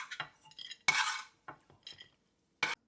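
A metal spoon scrapes and clinks against a pan, scooping fried coconut pieces and cashews out of hot ghee, a few sharp close clatters separated by short pauses.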